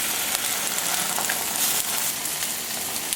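Jimmy Dean breakfast sausage patties fry on a Camp Chef Sidekick griddle, making a dense, constant close-up sizzle and crackle that carries on alone throughout.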